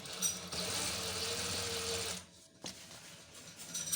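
Sewing machine stitching a sleeve onto a kameez shirt, buzzing in a steady whir for about two seconds before stopping, leaving quiet room noise and a few small clicks.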